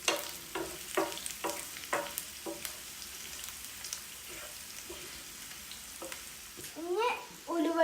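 Chili powder going into hot oil for a garlic pickle, giving a soft steady sizzle broken by repeated scraping stirs, with a louder crackling burst near the end.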